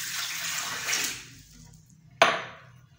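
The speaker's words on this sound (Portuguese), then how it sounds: "Agora eu vou colocar o copo d'água gelada no liquidificador." Ice-cold water pours and splashes steadily into a blender for about a second, then quiet, followed by a sharp clunk of a container.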